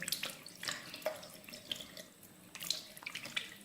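Tap water runs into a bathroom sink while a face is rinsed, a close, steady splash broken by brief splashes of water hitting skin and basin.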